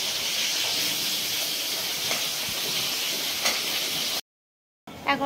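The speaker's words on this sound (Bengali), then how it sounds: "কলা ভাজছে দিদি।" Banana slices fry in a kadai, giving a loud, even hiss of sizzling oil that runs unbroken, then cuts to silence before a short return.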